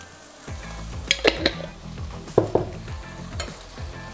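Meatballs frying in a pan with tomato sauce, a gentle continuous sizzle with a few sharp metallic clinks and scrapes of a utensil against the pan, close and quiet.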